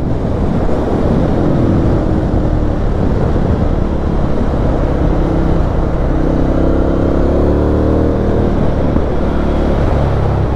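A V-twin motorcycle engine drones steadily while riding on Aberdeenshire roads, mostly buried under loud, constant wind roar, with a brief rising engine tone surfacing toward the end.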